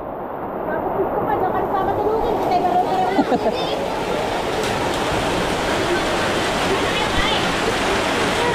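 Floodwater rushing and roaring steadily during very heavy rain as it enters houses in a flooded area, a dense, constant broadband wash of water noise throughout with voices faintly mixed in.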